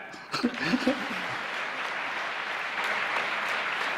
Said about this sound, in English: If you agree, please clap.